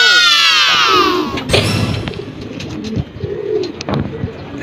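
Racing pigeons come home from Tinio, Nueva Ecija. Loud cooing and wing sounds open the clip, and a burst of flapping follows. Pigeon noises continue nearby over faint outdoor background and scattered voices.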